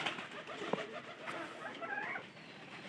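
Pigeons being readied for a bath, with a soft coo set among chicken clucks and other bird calls, steady and moderately near, low-level throughout.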